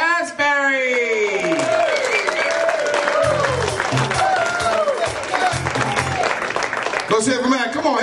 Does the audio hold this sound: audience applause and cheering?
yes